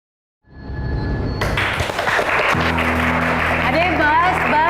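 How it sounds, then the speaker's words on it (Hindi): Applause for a woman in a Crime Patrol drama scene breaks out suddenly after a brief silence and keeps going strong, joined partway through by sustained musical tones. "अरे बस बस बस, इतनी तालियों की हकदार नहीं हूँ मैं।"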